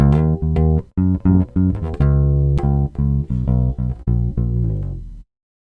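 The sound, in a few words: bass guitar recorded through a direct box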